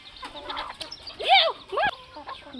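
Broiler chickens on a farm give clucking calls over a soft background hum, with two louder, clearer calls in the middle of the stretch.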